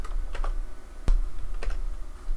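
Typing on a computer keyboard to enter a name in an email account setup, a few soft scattered keystrokes with one sharper clack, close and alone.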